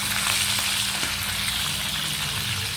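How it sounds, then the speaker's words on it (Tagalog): Steady hiss of moringa frying in hot oil, with crackling pops and spatters throughout, close by. "Paano na natin yung ating prito, nagtatalsikan."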